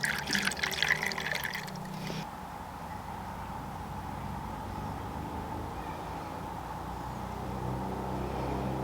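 Alcohol stove fuel trickles from a small spout into a little cup: a brief close pour and dribble at the start, then a quiet steady background hiss with no talking.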